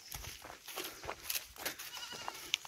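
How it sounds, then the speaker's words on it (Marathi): Goats bleating outdoors on a farm, faint and somewhat distant calls scattered over a soft background with light rustle and a small sharp click near the end. "इथं बकरी पण आहेत."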